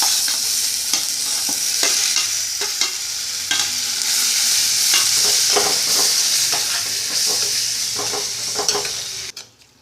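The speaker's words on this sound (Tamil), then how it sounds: "ஒரு வெங்காயம், 2 தக்காளி, ஒரு பச்சை மிளகா வந்து சேர்த்து வதக்கியிருக்கேன்" Onion, tomato and green chili sauté in hot oil for sambar: a loud, continuous sizzle with frequent scraping clicks of a spoon stirring and pressing the mix in the pan, close and steady, with no talking.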